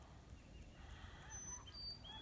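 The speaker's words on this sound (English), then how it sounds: "Yeah, I think those are snow geese." Snow geese honk while flying over a snow-covered hayfield by a farm pond, a few thin, distant calls rising faintly above a low outdoor rumble.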